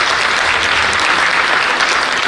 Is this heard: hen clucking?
no